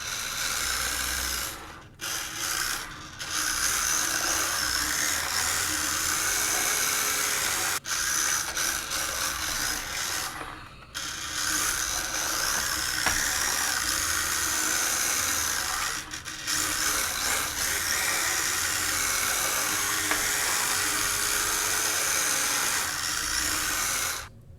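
A micro drift RC car drives in a steady, loud whir of small motor and gears close by, running almost continuously with a few brief pauses and no talk.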